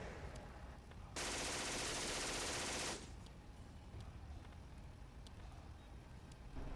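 Loud burst of sustained automatic gunfire in a WW2 strategy game set at Le Mesnil-Patry, a dense rattling stream lasting under two seconds before cutting off to quieter background rumble.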